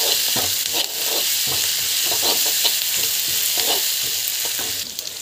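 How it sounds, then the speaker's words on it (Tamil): Cashews are sautéed in a hot pan, giving a steady bright sizzle with repeated scraping and clinking as a spoon stirs them, close and continuous with no talk. "முந்திரி ஆட் பண்ணி முந்திரி போட்டுட்டு நல்லா வந்து வதக்கிக்கலாம்."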